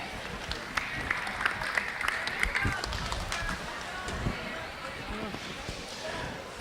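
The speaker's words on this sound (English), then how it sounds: "let's give them a round of applause as they exit the ring" A county fair crowd applauds at a 4-H/FFA market steer show as the cattle leave the ring, with scattered clapping blended into a busy arena murmur and some nearby movement, steady and moderately loud throughout.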